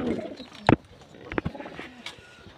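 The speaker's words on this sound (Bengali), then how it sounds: "লালবাগ জেনারেশনের কবুতরগুলো" Lalbagh-strain pigeons brooding a pair of eggs give a few short, close cooing calls, one strong burst followed by softer ones, against a quiet background.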